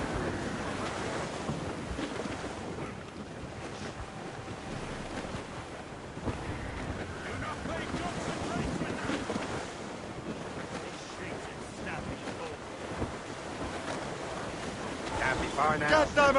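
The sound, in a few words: strong wind at sea while sailing a ship, from a video game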